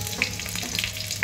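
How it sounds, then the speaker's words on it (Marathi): Garlic and coriander roast in a pan for kharda with a close crackling fry and light stirring, ending in a sudden louder burst of sizzle. "आपलं लसूण पण कणी असं तांबूस कलर येपर्यंत भाजत आले. त्यामध्ये आता मी कोथिंबीर घालते"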